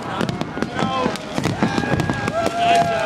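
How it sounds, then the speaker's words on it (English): Loud, sharp fireworks bangs echo in rapid irregular succession over Prague, with crackling bursts and people talking underneath. "those bangs are really intense, eh? That's unlike normal fireworks"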